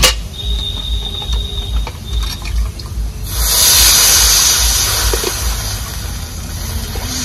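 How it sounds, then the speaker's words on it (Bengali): Water is poured onto fried potatoes in a hot pan: a quiet simmer sizzle suddenly erupts into a loud, hissing surge partway through, then settles into a steady bubbling hiss. "এবার দিয়ে দেব পরিমাণ মতো জল।"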